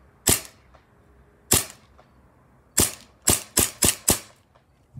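Seven sharp, close cracks from a Ruger 10/22 rifle or BB gun, two spaced shots followed by a quicker cluster of five, each a sudden loud snap with a short tail, no talking.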